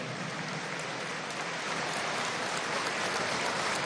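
Dense, steady applause from a large gathering fills the space at a military promotion ceremony for newly ranked soldiers at the National Pantheon, holding an even, sustained roar throughout.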